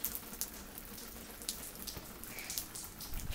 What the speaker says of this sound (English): I'm not going in the rain.